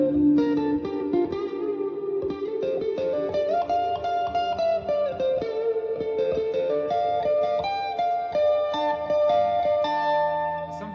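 An electric guitar solo plays through a Universal Audio Volt 476P and a Ruby amp plugin with reverb, its mostly clean but slightly gritty tone running as fast melodic lines with ringing sustained notes.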